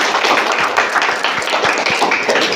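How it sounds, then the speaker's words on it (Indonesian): An audience claps for a presenter after her talk on manual versus electronic medical records, a dense, steady patter of many hands with a few louder close claps, continuing evenly throughout. "Beri tepuk tangan buat Aulia."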